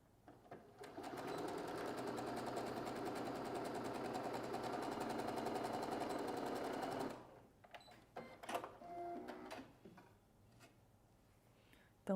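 A sewing machine stitches backpack fabric in a steady, fast mechanical whir for about six seconds, then stops, followed by scattered clicks and handling noises.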